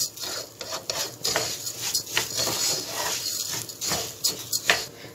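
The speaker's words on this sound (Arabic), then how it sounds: "ونزلنا بالرز هشوحه كده شويه بالسمنه" Rice and vermicelli stirred with ghee in a cooking pot, giving repeated scraping and clinking of a utensil against the pot with a soft sizzle underneath, close and steady with no talk.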